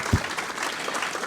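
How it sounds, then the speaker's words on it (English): A conference audience at an AI event gives a speaker a round of applause, heard as a brief, moderate wash of clapping with a low thump at the start. "Round of applause."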